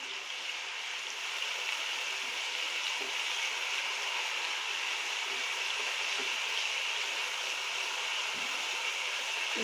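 Tomato masala with stock, for a cabbage dish, sizzles and bubbles in a pan, a constant bright hiss holding evenly and close throughout, with no talking.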